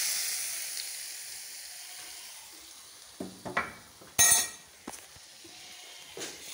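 Carrot halwa with ghee-fried cashews is stirred in a pan: a soft background sizzle, then scattered scrapes of the spoon and a bright metallic clink, all fairly quiet and close.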